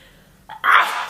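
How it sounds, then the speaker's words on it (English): A single sharp human sneeze close up, a short inhaled catch followed by a loud burst of breathy noise that fades out. "I'm gonna sneeze, I think."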